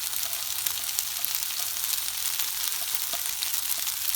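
Onions frying in a pan for chicken sizzler, producing a loud, close, steady hiss of sizzling oil with faint stirring ticks throughout.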